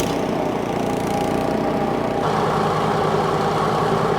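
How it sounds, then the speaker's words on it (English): A Craftsman snowblower engine runs loud and steady at close range with the augers and impeller engaged, and its tone shifts slightly partway through. "All right, let's fire up those augers."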